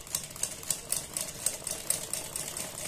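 Sewing machine stitching a fabric neckline, a faint rapid mechanical patter of needle strokes in a steady rhythm, heard alone and close.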